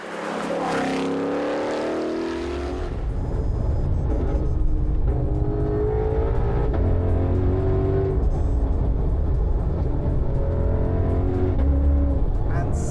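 A Ford Mustang GTD supercar on a tight, twisting highway, its engine surging and revving hard under acceleration with a loud, continuous roar, while someone talks over it.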